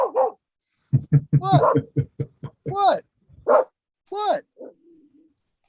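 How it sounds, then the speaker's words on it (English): A dog barks several times in short, sharp bursts, fairly close, mixed in among a man's speech. "Hey, that's my dog."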